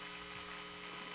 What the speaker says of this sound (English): If I set it to single coil, that's the hum.